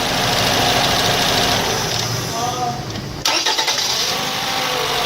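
A Toyota Camry engine with a misfire is shut off and restarted, with loud running engine noise, a sharp break, then the engine catching and running again, with a voice under it.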